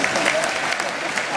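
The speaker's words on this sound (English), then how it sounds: "Let's give them another round of applause." Dense, continuous applause from a crowd fills the moment, steady and moderately loud throughout.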